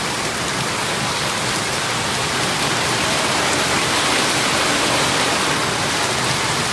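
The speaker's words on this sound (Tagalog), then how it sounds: "sobrang lakas ang ulan hindi ako makabintang ng ganito kasi eh, mabuhat ang ulan oh" Heavy rain pours down in a steady, dense roar, unbroken from start to finish and with no voices.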